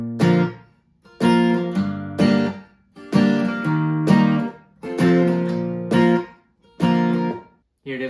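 Acoustic guitar strums the chords of a song at a slower tempo, mixing bass notes with rhythmic down-up strums in short separated bursts, close and clear with no talking.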